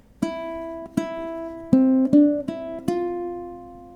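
Short plucked ukulele notes with a bright, twangy tone, six plucks in a simple rhythm from the first bar of a jazz duet, each ringing briefly, clear and close.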